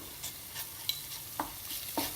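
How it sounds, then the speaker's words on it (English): Onions sizzle quietly in a pan while a utensil clicks and scrapes a few times during stirring. "It's been 8 minutes that I've been frying the onions."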